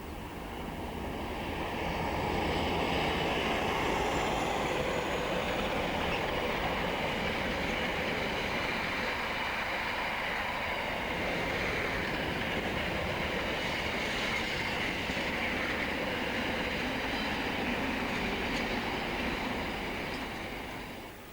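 A Freightliner Class 47 diesel locomotive hauls the Crewe to Ipswich train past at steady speed. It makes a loud, continuous rumble and rail roar with clattering wheels, and the noise holds for about twenty seconds with no talk.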